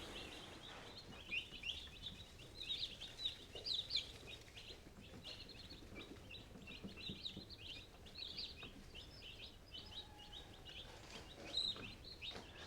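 Young Cornish Cross meat bird chicks peep and chirp in a steady stream of high, thin calls, faint and close together, with no talking.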